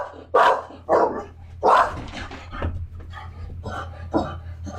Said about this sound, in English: the dog spotted something.